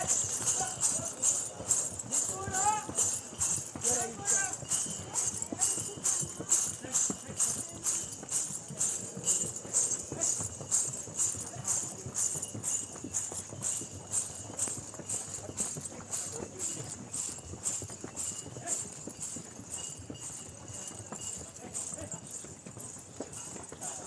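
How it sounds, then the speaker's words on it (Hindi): Horse hooves clip-clop steadily along the Vaishno Devi pilgrimage path, a close, regular walking rhythm that continues throughout while people talk over it. "घोड़े पे बैठने का भी अपना ही अलग एक मज़ा है।"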